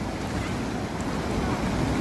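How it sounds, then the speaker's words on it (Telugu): Floodwater surges across a low-level bridge on the Ibrahimpatnam–Batasingaram road after torrential rain, a steady rushing roar with wind buffeting the microphone. "లో లెవెల్ బ్రిడ్జి ఉండడంతో ఈ వాటర్ ఫ్లో ఎక్కువగా కొనసాగుతుంది"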